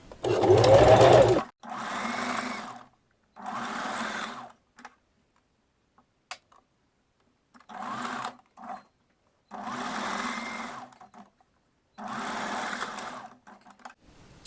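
A sewing machine stitches the seam of an underwired bra cup with a single dart, running in several short bursts separated by brief pauses, close and clear with no talking.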